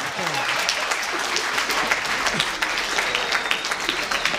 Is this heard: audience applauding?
yes